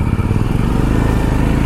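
A Royal Enfield Super Meteor motorcycle rides off-road on a mountain trek, its engine a loud, close, steady rumbling chug with no talk.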